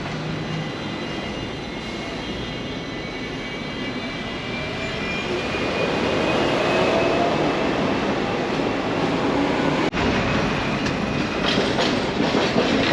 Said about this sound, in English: There's 5 trams right here.